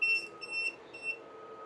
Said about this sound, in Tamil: நல்லா பீப் சவுண்ட் அடிக்கும்.